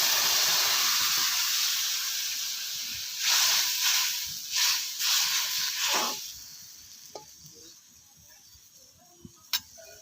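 Soaked dried mango (aamsi) dropped into a hot pan, loud steady sizzling at first, then a burst of spattering hiss that fades into quieter crackle and a couple of sharp pops.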